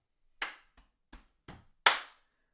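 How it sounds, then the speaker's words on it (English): Body percussion sequence performed alone: a sharp hand clap, two lighter chest taps, a dull low foot stomp, then a final bright clap, each hit distinct with short gaps between. "you do a clap, two taps on your chest, a stomp, and another clap"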